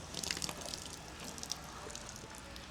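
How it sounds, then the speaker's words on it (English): Water runs steadily from an outdoor hose bib at good pressure during a new home inspection, a soft continuous hiss and splash with faint dripping, fairly quiet and with no voices. "We got good water pressure to both hose bibs."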